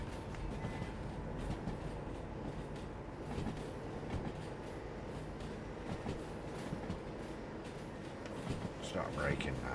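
A train rolls along the rails in the video game Derail Valley with a steady rumble and faint clicking of wheels, and a voice talks briefly over it near the end.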